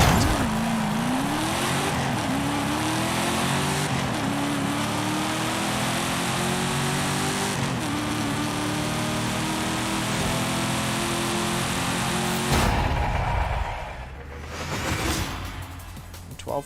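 A truck on a drag racing speed pass accelerates hard, its loud engine note rising in repeated stepped sweeps through the gears for about twelve seconds before cutting off abruptly into rushing wind noise.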